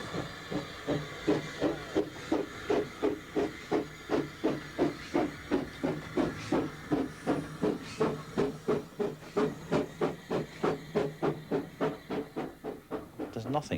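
A steam locomotive on a heritage railway works hard, its rhythmic chuffs and steam hiss beating steadily and quickening, loud and close.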